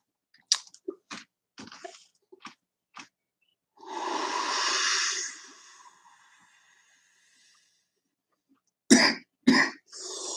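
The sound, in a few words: coughing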